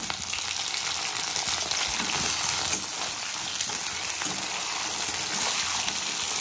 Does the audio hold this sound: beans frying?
yes